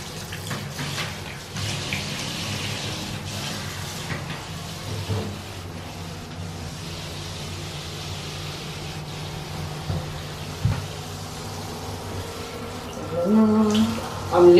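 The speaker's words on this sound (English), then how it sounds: "I'm literally just waiting for this water to cool down a little bit." A water tap runs steadily during a hair-rinsing wash of locs, a constant hissing gush close by that continues throughout with small shifts in flow.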